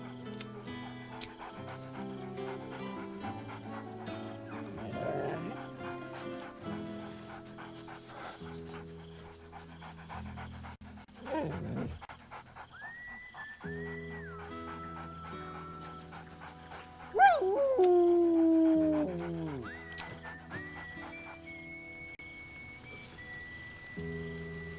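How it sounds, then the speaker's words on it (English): A dog in the Baldur's Gate 3 video game pants and barks over a steady game music score, the panting breathy and rhythmic, with a louder burst of barking and whining near the end. "Scratch barks merrily in something like agreement."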